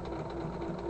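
A sewing machine stitches cloth in a steady, continuous mechanical hum and rapid needle chatter, close and even throughout, with no voices.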